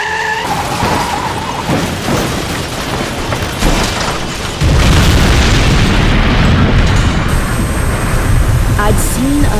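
A car flipping over and tumbling violently after an overcorrected swerve, heard as a dramatized crash effect: skidding, then heavy rolling booms and crunching impacts that build to a loud, dense roar, with a brief voice at the start.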